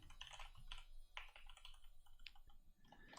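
Someone types on a computer keyboard, close and quiet, with irregular clusters of clicky keystrokes and short pauses between them.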